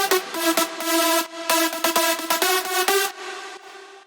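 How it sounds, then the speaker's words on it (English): Several bright synth leads stacked together play a choppy rhythmic melody for an EDM drop made in FL Studio 20, loud and dense, ending in a fading reverb tail. "So if I play all the leads together,"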